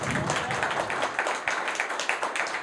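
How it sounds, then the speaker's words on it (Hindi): Audience applause at a Hindi religious talk on de-addiction, a steady patter of many hands clapping for about three seconds, moderately loud with no voice on top. "तालियों से बता दो, दम है या नहीं है?"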